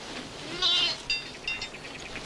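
Sheep give a few quiet bleats, one longer call followed by shorter ones, set against a steady low outdoor background with no talking.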